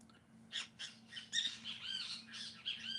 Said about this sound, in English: And of course the birds are here.